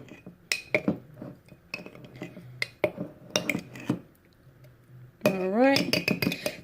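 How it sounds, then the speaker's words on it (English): A utensil stirs homemade mystery snail food in a microwaved dish, producing repeated close clinks and scrapes against the bowl in an uneven rhythm, with a brief voice-like sound near the end. "So I'm going to stir it a little bit longer."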